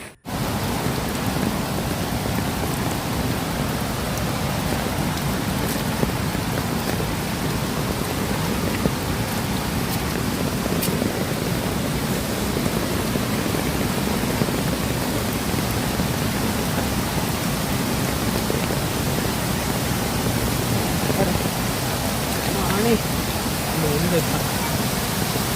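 Monsoon rain falls steadily near a waterfall, a dense, even hiss of downpour that continues unbroken for the whole stretch.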